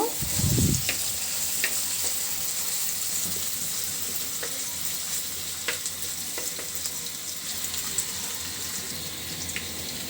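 Onion and a bay leaf frying in oil in a pan for a fish curry, with a continuous close hiss of sizzling, a low thump near the start and scattered light clicks.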